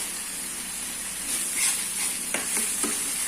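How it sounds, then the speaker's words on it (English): Ginger garlic green paste with coriander leaves and green chilies tipped into onion paste frying in a pan for butter chicken, a steady close sizzling hiss with a few stirring scrapes and spits. "Now I will add the ginger garlic, the green paste which I have made."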